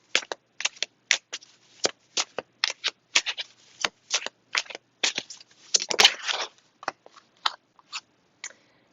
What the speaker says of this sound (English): Keep reshuffling some of the cards here